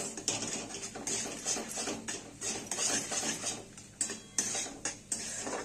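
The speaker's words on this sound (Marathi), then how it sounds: "हे सतत हलवायला लागतंय बरं का, खाली लागतं, सारखं हलवायला लागतं" A spoon stirs a thickening khoa mixture in a pan, giving continuous close scraping and clinking strokes in a quick, uneven rhythm with no talk.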